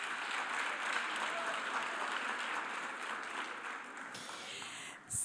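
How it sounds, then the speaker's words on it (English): An audience at an Africa Day lecture applauds visiting guests from Kayamandi, the clapping a steady, moderately distant wash that holds evenly before briefly dipping at the very end. "Let's give them a round of applause."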